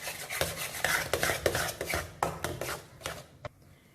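A spoon stirs and scrapes a thickening coconut thiratti paal sweet mixture in a pan, making close, rhythmic scraping strokes roughly every half second that stop near the end.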